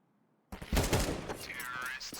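Gunshots in a Counter-Strike 2 competitive match, a sudden cluster of sharp shots after near silence, with a caster's voice talking over the game sound.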